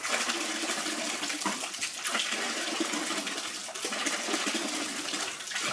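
Water gushing steadily from an aquaponics airlift pump, a continuous splashing rush like a running tap, close and even throughout with no talking.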